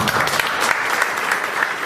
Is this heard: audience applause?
yes